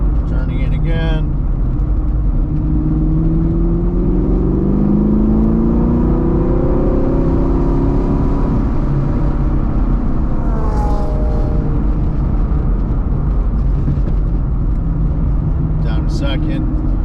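A BMR-equipped sixth-generation Camaro engine drones loudly on a road course lap, pitch sweeping up and down through shifts under a constant roar, with someone talking over it.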